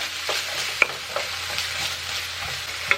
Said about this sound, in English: we'll start with some olive oil, onions, cook it for a few minutes